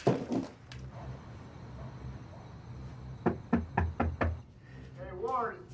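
A quick series of firm knocks raps on a door, five or six close blows in a row, following a stretch of quiet room tone and a few hurried voices, with people talking and murmuring afterward.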